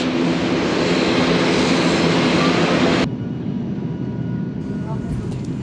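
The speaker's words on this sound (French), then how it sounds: "Un avion à hélice, plein autre chose." Propeller airplane on a domestic flight from Manila to Siargao, a loud steady engine drone heard from inside the cabin that drops abruptly to a quieter hum partway through.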